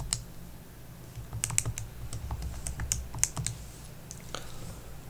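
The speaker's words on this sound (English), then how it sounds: "if I type this in the calculator" Fingers tap numbers into a calculator keypad: a quick, uneven series of about a dozen crisp plastic clicks, some in fast clusters, close and fairly quiet, with no talking.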